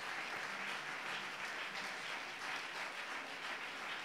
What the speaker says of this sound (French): Give the Lord a mighty clap offering